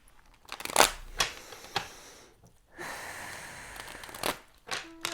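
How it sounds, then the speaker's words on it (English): Several quick papery riffles of cards being shuffled, close by, with short pauses between bursts and a steadier rustle in the middle. "One more shuffle."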